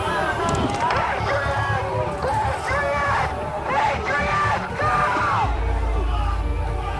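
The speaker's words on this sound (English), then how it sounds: "members in the crowd shout at him" A crowd at the Capitol, pressing toward police barricades of bike racks and gates, yells and shouts at a police officer, a dense roar of overlapping voices and whoops that stays loud and continuous throughout.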